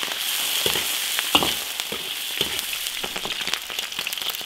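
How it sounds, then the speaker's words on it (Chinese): Pork ribs stir-frying in hot oil in an iron wok, a steady close sizzle with intermittent scraping and clattering stirs spaced through it, no voices. "排骨下锅煸炒"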